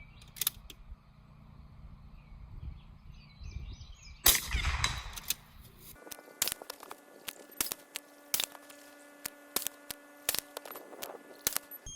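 A rifle shot fired at a target, a sharp loud crack partway through followed by a series of short clicks and faint ticks in otherwise quiet surroundings.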